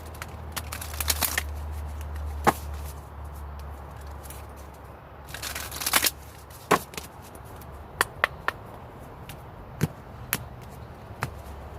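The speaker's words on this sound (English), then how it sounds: "a couple more shuffles." Tarot cards are shuffled by hand in a few brisk bursts of papery flutter and slapping clicks, separated by quieter pauses and scattered single taps. The sound is close and dry, with no talking.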